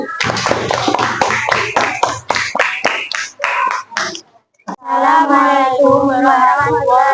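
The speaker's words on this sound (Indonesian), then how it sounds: "Tepuk tangan untuk kelompok 1." A class of elementary school students claps for a group of classmates, a burst of sharp, uneven hand claps that thins out and stops, followed by a voice speaking alone.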